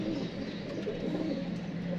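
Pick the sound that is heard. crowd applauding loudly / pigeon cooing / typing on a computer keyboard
pigeon cooing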